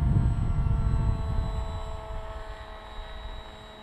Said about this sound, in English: The plane's keeping the wings level for me.